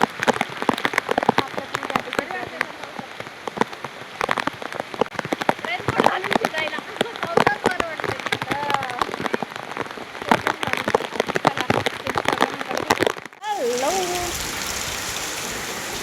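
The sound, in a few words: heavy rain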